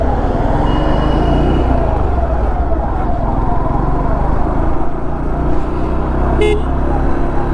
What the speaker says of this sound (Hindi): देख रहे हैं भाई लोगों, वीआईपी गाड़ी जा रही है